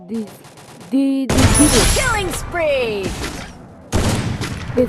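Rapid bursts of gunfire in the Free Fire battle royale game, several loud volleys cutting in and out with sharp pauses, mixed with game effects and a voice talking over it.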